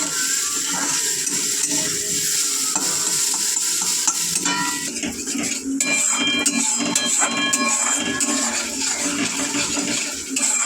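Thick fish pieces fry in an iron wok with a loud, close crackling sizzle, mixed with scraping as the pieces are turned and freed from the sticking metal.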